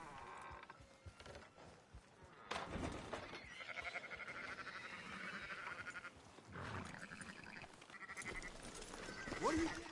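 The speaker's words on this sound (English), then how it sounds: "Fine sheep." Sheep in the Red Dead video game bleat in several loud wavering calls in a farm setting. Background clatter and occasional voices sit beneath the calls.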